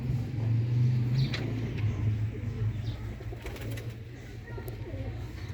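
Sialkoti rooftop pigeons cooing in low, repeated throaty bursts, fairly close and loud over a steady background rumble, with no speech.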